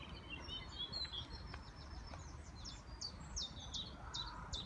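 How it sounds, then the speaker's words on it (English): Small birds chirp in short, high repeated calls beside a stream in the Dighty area of Dundee, the steady rush of flowing water running underneath throughout. "loads of butterflies and bees and sort of funny little shaped birds"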